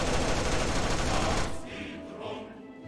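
Gunfire in the video game Boris Russian Bear, a dense, continuous automatic barrage, loud and close, that cuts off abruptly after about a second and a half, leaving fainter ambient sound behind.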